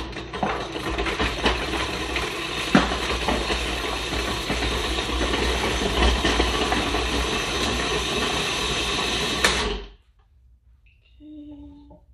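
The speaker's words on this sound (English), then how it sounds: "now I'm going to throw it into the food processor. So we'll just turn this on." A food processor chops peeled ginger root with a loud, steady mechanical whir and rattling blades that runs for about ten seconds, then cuts off abruptly into near silence.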